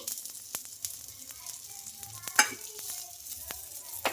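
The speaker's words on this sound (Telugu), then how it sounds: "ఇంకా ఈ ఆయిల్ వేసుకొని కొంచెం స్పూన్తోనే ఇలా మొత్తం స్ప్రెడ్ చేసుకోవాలి ఇలా బాగా కలర్ చేంజ్ అయ్యే వరకు అయితే ఫ్రై చేసుకోవాలండి" Rava dosa batter fries in oil on a pan with a soft, steady sizzle, while a spoon scrapes and taps against the surface now and then, heard close and without talking.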